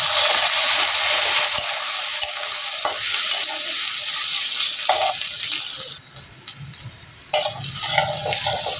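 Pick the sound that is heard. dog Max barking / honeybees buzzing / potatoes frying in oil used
potatoes frying in oil used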